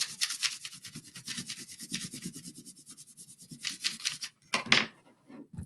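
Green colour is rubbed over a leaf laid beneath paper, giving quick close scratchy strokes in an uneven rhythm with a few short pauses.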